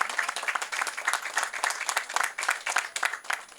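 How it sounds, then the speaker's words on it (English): Dense, steady applause from a crowd at a press conference, many hands clapping at once with no pauses and no voices. "I hear the developers all clapping."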